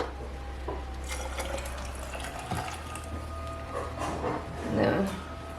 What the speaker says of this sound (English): Let's go ahead and fill her all the way up with hot water.